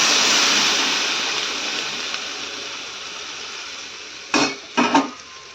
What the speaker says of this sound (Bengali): এতে জল ঢেলে দিলাম